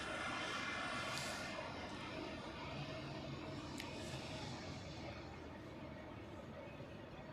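An arriving airliner taxis to its parking position at Zurich Airport, a steady, continuous engine roar and whine holding at even loudness throughout, with broad rumble and no talk.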